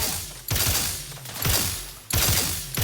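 Heavy-recoil gunfire in The Outer Worlds 2: three loud, sharp blasts about a second apart, each trailing into rattling mechanical clatter and a fading low rumble.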